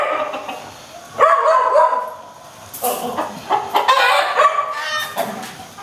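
Chickens clucking and squawking nearby in bursts, with a dog barking among them and a rooster-like call.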